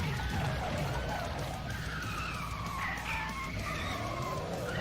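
Car tyres skid and squeal without traction in the Carmageddon video game, a continuous screech with wavering pitch over a steady engine drone.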